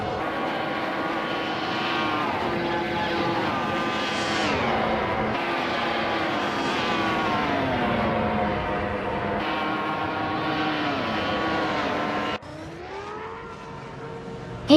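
Race cars in a racing video game roar steadily with continuous engine whine, pitch sliding up and down as the cars speed past, loud and sustained with a brief drop near the end.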